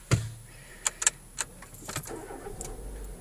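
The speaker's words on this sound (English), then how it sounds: "Let's just start her up for you." A Renault Grand Scenic 1.6 VVT starts up after a few clicks and key-card sounds, then the engine catches and settles into a low, quiet idle heard close by.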